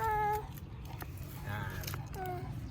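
A cat meows beside a river, giving a few short, close, fairly quiet calls spaced through the moment while people speak softly nearby.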